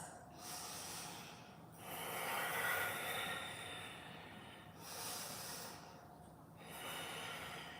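Slow, deep yoga breathing in a live session: long airy inhales and exhales alternating in a steady cycle, close to the microphone and fairly quiet, with no talking.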